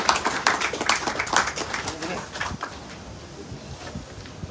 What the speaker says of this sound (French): On peut applaudir effectivement cette initiative une fois de plus.